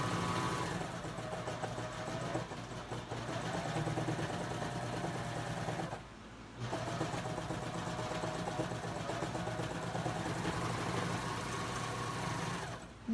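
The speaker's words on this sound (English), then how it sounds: "I'm going to run another test, because Coverstitch does not like to sew outside of fabric" A Babylock serger runs a coverstitch test, its motor whirring with a rapid mechanical stitching drone that stops briefly partway through and then resumes, close and steady.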